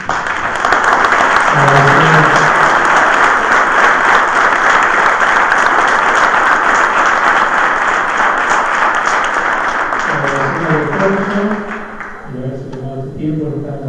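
Audience applauding a priest after his lecture on addictions, a long, loud, dense wash of clapping that tapers toward the end, with a voice speaking over it at the start and again near the close.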